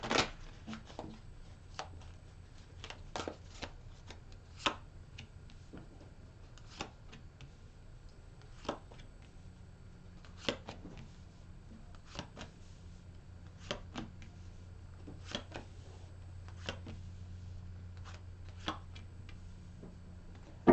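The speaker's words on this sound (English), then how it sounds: "One more shuffle for Aquarius." Soft, quiet tarot card shuffling with scattered sharp little clicks and riffles spread irregularly over a faint background hum, no voices.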